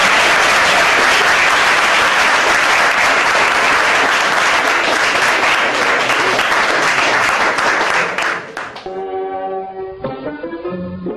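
Loud, dense audience applause at an evening stage event fills the hall for about eight seconds, greeting a translator, then breaks off as music with a singing voice takes over.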